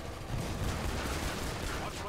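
An AA-12 automatic shotgun fires in the video game Killing Floor 2, a dense run of heavy booming blasts filling the short stretch with rumbling low-end impact.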